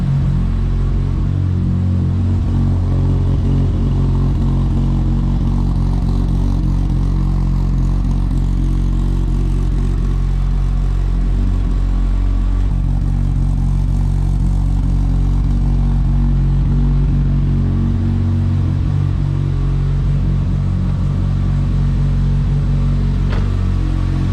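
A stock-block Mitsubishi Evo engine idles in a steady, loud low rumble with slight unevenness, sustained throughout and close, with no talking.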